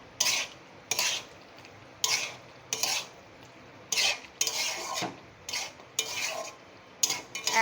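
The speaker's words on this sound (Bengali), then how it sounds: "এই যে একটু ঘি দিয়ে দিলাম। দিয়ে ভালো করে মিশিয়ে নেব।" A spoon stirring lau chingri, a bottle gourd and prawn curry with ghee, in a pan: repeated scraping strokes in bursts about once a second, close and fairly quiet, with short pauses between them.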